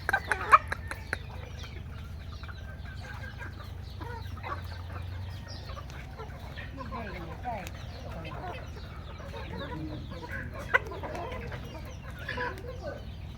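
Native chickens cluck on a farm, a flock of scattered clucks and short calls continuing throughout at moderate distance over a low background rumble.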